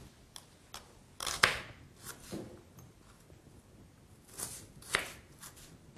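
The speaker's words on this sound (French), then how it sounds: "Puis on la cisèle finement, on va la couper très finement, le plus finement possible" A shallot being finely chopped with a knife on a cutting board: faint, sparse blade taps and scrapes at an uneven pace, a few sharper strikes standing out, otherwise quiet.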